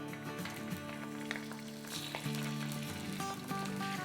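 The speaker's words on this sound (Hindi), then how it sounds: "सबसे पहले हम आधा कप इसमें तेल डालते हैं, 1 टेबलस्पून जिंजर और 1 टेबलस्पून गार्लिक डालेंगे।" Ginger and garlic frying in half a cup of oil at the start of a kofta meatball stew: a steady, close crackling sizzle with occasional stirring clinks, over a faint sustained background tone.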